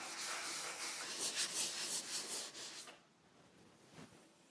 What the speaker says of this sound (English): Now I need to go sand.